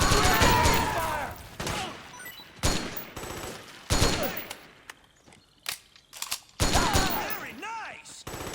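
Gunfire from Metal Gear Solid 4 erupts in dense, loud bursts of rapid shots, separated by brief lulls with scattered single cracks and ricochet-like whines.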